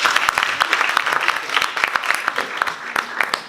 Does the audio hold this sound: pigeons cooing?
no